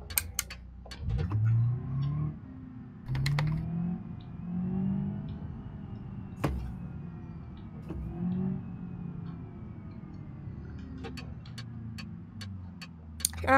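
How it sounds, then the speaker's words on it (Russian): Car turn signal ticking inside the cabin, sharp clicks coming in short bursts and spreading faster toward the end, over a low engine rumble with no talking. "Ну, я же поворот включу."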